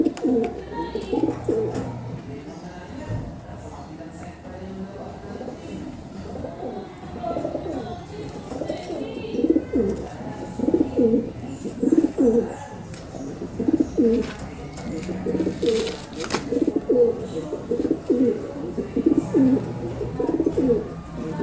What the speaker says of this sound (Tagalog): Oh, yun mga kalapatids, ito. Kalapati natin.